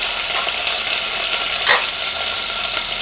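Curry leaves, coriander and cashews sizzle in hot oil in a pan for coconut milk rice, a loud steady crackling hiss that runs throughout with a brief stirring scrape partway through.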